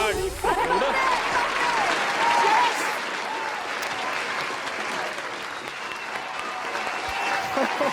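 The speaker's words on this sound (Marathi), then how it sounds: "जोरदार टाळ्या समीर चौघुले यांच्यासाठी" Loud, sustained applause and crowd cheering for comedic actor Sameer Chougule at an awards evening, a steady dense clapping wash throughout, with a voice briefly heard over it.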